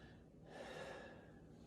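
A patient takes one soft, deep breath in during a lung auscultation exam, a faint airy inhale that swells and fades over under two seconds with no talking.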